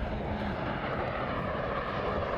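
A light aircraft fitted with an electric motor flies at the 2010 Sand in Taufers airshow, giving a steady, moderately distant engine drone that holds constant with no pauses.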